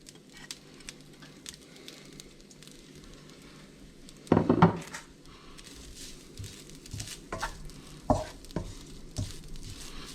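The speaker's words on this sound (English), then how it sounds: "I'm going to dry roast this coconut in the wok" Grated coconut dry-roasting in a hot wok, stirred with soft scraping and light patter at a low, steady level, with a couple of louder knocks and scrapes of the utensil against the pan.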